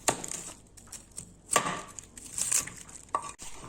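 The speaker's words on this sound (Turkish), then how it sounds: "O beyazlığı kesip çıkarıyoruz." A knife cuts the white core out of a quartered purple cabbage, making a few quiet, crisp crunching slices with short pauses between them, close and otherwise nearly silent.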